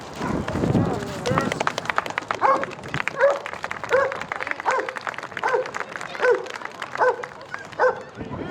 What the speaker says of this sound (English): Now what Brutus is doing is called a bark and hold.